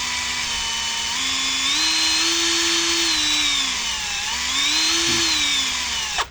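A Zper cordless impact drill runs steadily under trigger control, its motor whine rising and falling smoothly in pitch as speed is varied, loud and close with no talking, ending with a brief stop.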